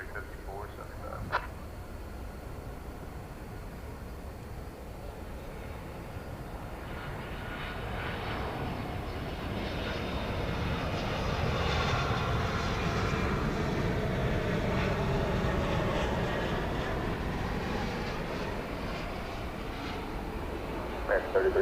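A Boeing 747 comes in to land at DFW Airport at night, a broad rumbling jet roar swelling slowly from afar and holding loud and steady, with faint radio chatter underneath.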